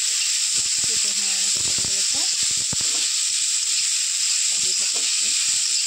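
Flattened rice (poha) sizzles steadily in a hot pan, a continuous close hiss overlaid with bursts of scraping and tapping as it is stirred, with a voice speaking briefly.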